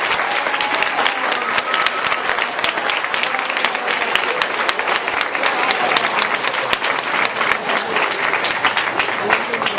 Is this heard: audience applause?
yes